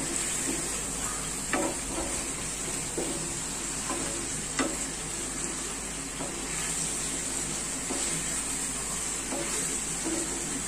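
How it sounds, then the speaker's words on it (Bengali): Spices and meat sauté in a pan with a steady sizzle, while a spoon stirs and scrapes the pan in occasional sharp clinks over the continuous frying hiss. "এখন আমি কিছুক্ষণ মশলা আর মাংসটা একটু কষাই নেব।"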